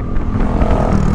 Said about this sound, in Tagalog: Kaya pala daming motor ngayon kasi holiday.